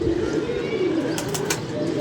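Pigeons in a loft coo steadily on a hot sunny day, a continuous low burbling close by with a few brighter chirps near the end.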